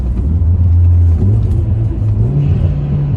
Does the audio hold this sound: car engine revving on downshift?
yes